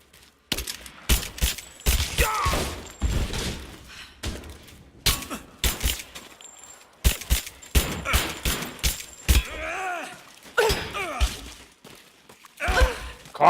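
Bursts of gunfire in Rise of the Tomb Raider crack out in rapid volleys between short gaps, with excited shouting voices mixed in and over the shots.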